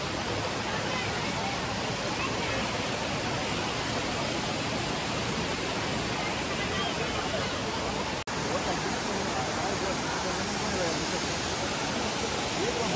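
At Tirathgarh waterfall, heavy water pours down in a dense, continuous roar that fills the whole scene at close range, with faint voices mixed under the rush and a brief cut partway through.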